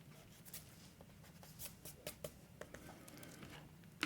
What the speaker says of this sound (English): So erase the extra marks